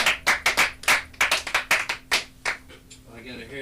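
An audience at a live comedy show claps in quick sharp bursts that thin out after a few seconds.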